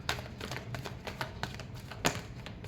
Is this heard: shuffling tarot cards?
yes